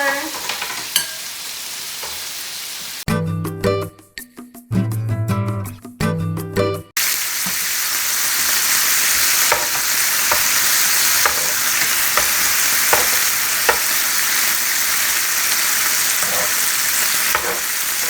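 Teriyaki chicken skewers sizzle steadily in a hot pan, with a burst of stirring or clattering early on before a loud, continuous frying hiss fills the rest.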